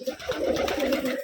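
A pigeon in a Rajshahi loft of highflyer pigeons gives a short, low cooing call close by, one brief rolling burst.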